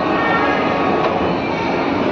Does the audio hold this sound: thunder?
no